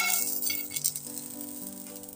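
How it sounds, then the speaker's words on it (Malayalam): Urad dal fries in a hot pan, giving a steady crackling sizzle with light rattling as the lentils shift and pop, close and continuous without any voices. "പാൻ ഒന്ന് ചൂടായതിനു ശേഷം 2 ടേബിൾ സ്പൂൺ ഉഴുന്ന് പരിപ്പ് ഇതിലോട്ട് ഇട്ട് കൊടുക്കാം."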